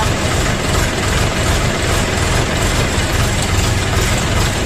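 A DTZ mini tractor's small engine idles steadily nearby at slightly raised idle speed, a constant loud rumbling drone with no voices.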